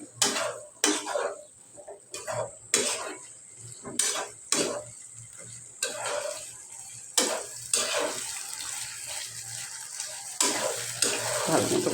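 Rice for teheri being stir-fried in a pan, with a spoon scraping and clanking against the metal in irregular strokes over a soft, steady sizzle, fairly quiet and close.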